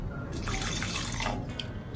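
Water trickles and splashes into a cooking pot, a continuous pour with small drips, fairly close.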